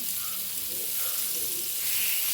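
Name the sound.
food shallow frying in a pan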